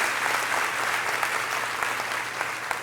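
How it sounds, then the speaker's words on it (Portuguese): Steady applause from a church congregation, dense continuous clapping that stays even and fairly loud throughout with no talking over it. "Pode dar uma salva de palmas."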